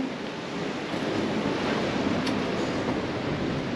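Wind gusts buffet the microphone on a seaside cliff, a steady broadband roar with surf-like wash that stays loud and unbroken throughout, with no voices.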